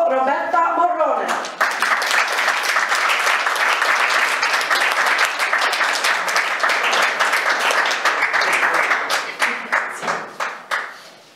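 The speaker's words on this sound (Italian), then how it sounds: "Accogliamo con un grande applauso Roberta Morrone." An audience applauds warmly to welcome an actress before a theatrical monologue, steady dense clapping filling the room for about ten seconds before thinning out into scattered claps.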